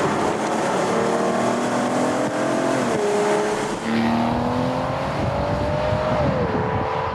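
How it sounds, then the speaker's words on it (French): A powerful V12 sports car engine drones loudly and steadily up close, its pitch rising as it accelerates, dipping briefly at a gear change, then climbing again. "T'entends ce bruit, ce moteur, ce V12?"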